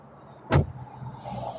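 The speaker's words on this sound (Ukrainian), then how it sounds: "як широко відчиняються двері" A 2022 Mazda MX-30's door unlatches with a single sharp thunk, followed by a soft low hum as it swings open.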